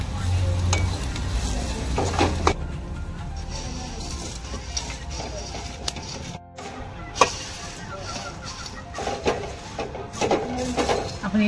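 Ragi (nachni) puffed rice chivda is stirred in a pan with chilli masala, coriander powder, turmeric and salt, giving irregular scraping and rustling over a light sizzle, with a voice talking at times.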